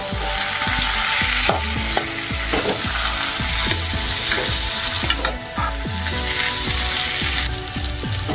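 Boiled potatoes with garam masala powder frying in a pan give a dense, continuous sizzle with a rhythmic scraping of stirring throughout, close and fairly loud, with no voices.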